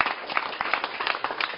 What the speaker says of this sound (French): on remercie le Rav Raviv, on applaudit très fort.